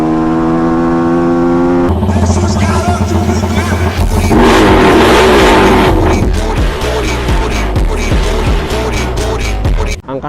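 Suzuki Raider Fi and Honda Flash 150X motorcycles revving, loud steady engine roar that climbs and holds with repeated throttle pulses, and a voice briefly heard at the start.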